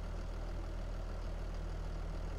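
Tractor engine idling in Farming Simulator 22, a steady low rumble holding constant with no talk over it.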